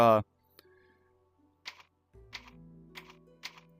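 Soft clicks and taps sound as a player types on a virtual keyboard with two fingers in the Resident Evil VR game on Quest 3, scattered key sounds with faint electronic tones, close and quiet after a brief bit of speech.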